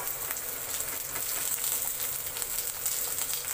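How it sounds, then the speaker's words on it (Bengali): Chopped onion and green chili sizzling steadily in hot oil in a pan where garlic has just fried, a continuous close crackling hiss with small pops and no talk. "কেটে রাখা পেঁয়াজ আর কাঁচা লঙ্কাটা দিয়ে ভেজে নিচ্ছি।"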